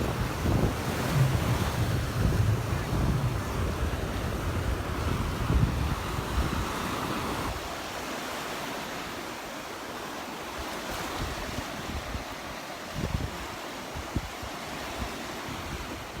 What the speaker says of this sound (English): But the waves look really calm today.